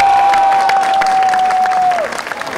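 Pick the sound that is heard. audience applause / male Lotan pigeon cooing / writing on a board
audience applause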